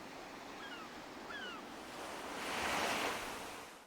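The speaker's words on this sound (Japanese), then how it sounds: "環境音は海が目の前にあるので海にしておきます" Ocean waves set as the ambient sound for a house in Animal Crossing: New Horizons: a steady, soft wash of surf that swells to a louder rush near the end, with a few faint high chirps early on.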